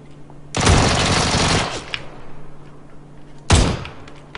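Loud bursts of automatic gunfire in the battle royale game PUBG, with a long sustained volley followed after a pause by a second short, sharp burst.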